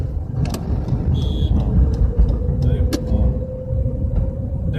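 A Tata Nano drives along a road during a practice lesson with a trainee driver, its low engine rumble and road noise steady throughout, with traffic around.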